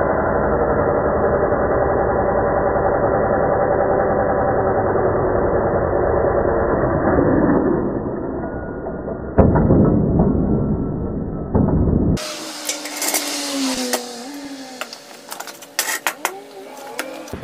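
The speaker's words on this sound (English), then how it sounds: "I'm going to go ahead and take my angle grinder and just cut these U-bolts" Angle grinder cutting through trailer axle U-bolts, a loud sustained whirring grind that runs for several seconds before cutting off, followed by clanking and scattered handling noises.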